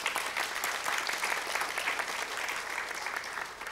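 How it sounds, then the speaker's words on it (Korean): Audience at a next-generation leaders forum of a Korean scientists' conference claps for the last panelist, a full, continuous round of applause at moderate loudness, easing slightly toward the end. "우리 박진우 교수님께 큰 박수 한번 부탁드리겠습니다."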